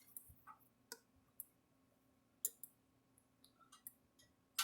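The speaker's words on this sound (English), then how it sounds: "You hear it ticking right along there." A Gallagher electric fence charger, slightly burned out, ticks in a steady series of sharp, faint clicks about every half second over a low electrical hum, with no talking.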